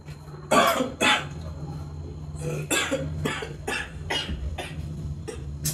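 A person coughs repeatedly at close range, harsh bursts in uneven clusters with brief throat-clearing between them and no talk.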